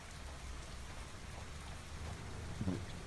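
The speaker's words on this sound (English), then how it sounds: "it's just started to rain" Steady rain falling in the farming game Farming Simulator 25, a continuous soft hiss of drops on surfaces with a brief louder patter near the end, no voices.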